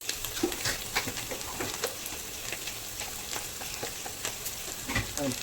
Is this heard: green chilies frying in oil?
yes